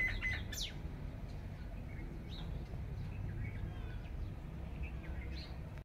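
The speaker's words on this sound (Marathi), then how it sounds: "पक्ष्यांची चिवचिव चालू झाली." Small birds chirp faintly and sporadically in the distance over a low, steady background hum.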